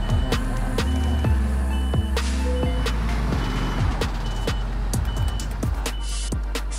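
An old trailer truck backs up on a narrow bend at night, its reversing alarm beeping in a steady repeated rhythm over a loud, continuous diesel engine rumble close by.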